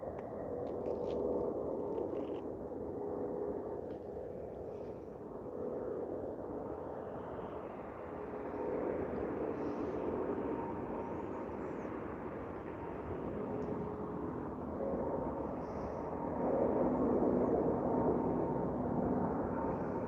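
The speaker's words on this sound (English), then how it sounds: "so Boeing 777-200. I can hear it spooling up." A Boeing 777-200's jet engines spool up at Vancouver International Airport, a distant, low, steady rumble and whoosh that slowly builds in loudness over about twenty seconds.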